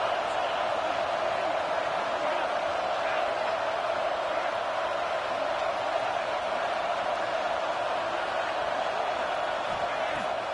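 Stadium crowd in the football video game Madden 22, a dense, steady roar of cheering fans that swells evenly throughout, with a commentator talking over it.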